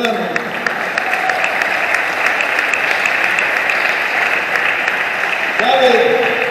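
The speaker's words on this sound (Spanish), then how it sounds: "dale palmas al Señor, hermano" A church congregation in Guatemala claps for the Lord, dense sustained applause filling the room throughout, with a voice rising over it near the end.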